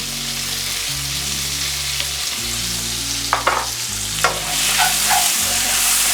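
Salt and chilli king prawns seasoned with generous salt and pepper are tossed in a hot wok, with steady loud sizzling, a low rumbling hum and a few sharp scraping clatters of the tossing.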